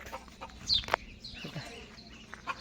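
Chickens cluck in short bursts nearby, mixed with brief chirps and some faint background noise.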